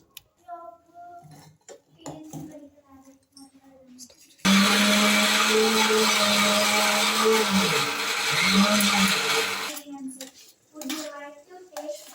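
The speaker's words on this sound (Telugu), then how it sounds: "మళ్ళీ వెల్లుల్లి మిక్సీకి వేసి మళ్ళీ వేసుకుందాం" A mixer grinder grinding garlic whirs loudly and steadily for several seconds, stopping and restarting briefly, with kitchen clatter and some talk before and after.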